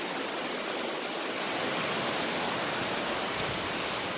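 Steady, dense hiss of rain falling, an even wash of noise with no breaks and no voices.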